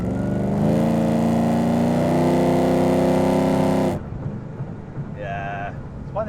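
A car with an LSA supercharged V8 holds a loud, steady rev for about four seconds before cutting off, leaving quieter background noise and a brief higher tone near the end.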